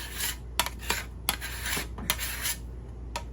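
A small pan is greased with shortening by hand, giving close, soft rubbing and scraping strokes with a few light metallic clinks against the pan, with no talking.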